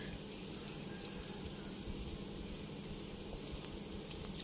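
An omelette with enoki mushrooms fries in a pan over medium heat, giving off a faint, steady sizzle throughout, with no voices.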